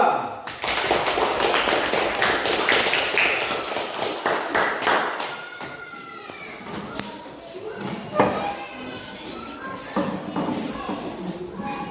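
Students in a classroom clap for group 2 after its presentation, a burst of many hands lasting a few seconds, then fading as voices talk over the room.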